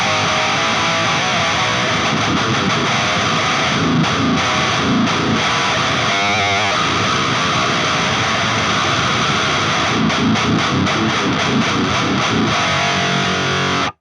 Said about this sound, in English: One is called Rotten Sauna.